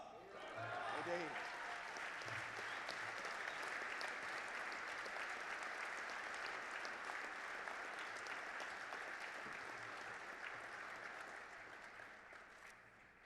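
Banquet audience at the 2020 Stars and Stripes dinner applauding to welcome the 38th Commandant of the United States Marine Corps, a steady sustained round of clapping with a few voices, fading near the end.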